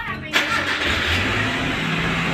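A fuel-injected car engine cranks and catches with a sharp burst, then settles into a steady, close idle during a tune-up.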